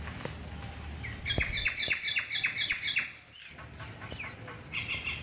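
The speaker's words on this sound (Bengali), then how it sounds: "এই জায়গাটায় আসলে আপনি পাখির সুন্দর গান শুনতে পাবেন।" Birds calling in a park playground with children's rides and bungalows nearby: bright repeated chirps and trills at moderate distance in a short burst, pausing briefly, then resuming over a faint outdoor hum, with no talking.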